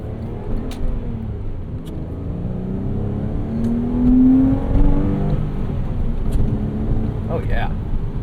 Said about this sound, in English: You do have to rev this out a bit to get the most out of it